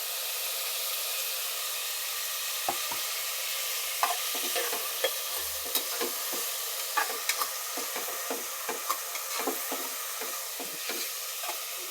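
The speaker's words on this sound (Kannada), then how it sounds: "ಚೆನ್ನಾಗಿ ಫ್ರೈ ಮಾಡ್ಕೊಳ್ತಿದ್ದಾರೆ" Tomato pulao frying in a pan: a steady close sizzle with irregular scraping and clinking stirs that grow busier toward the end, with no voices.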